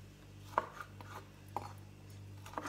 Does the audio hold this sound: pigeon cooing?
no